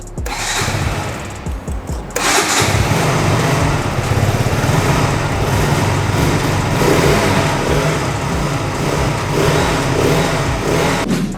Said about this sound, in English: Now it's time to turn on the ignition, and the bike is on neutral, so here we go.